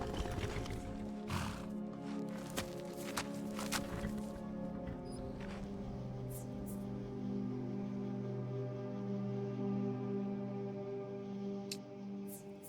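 Demon horse in the Skyrim video game, with a game neigh and hoof clip-clops over a steady droning soundtrack, a few sharp hoof hits early and a sustained whinny-like tone later.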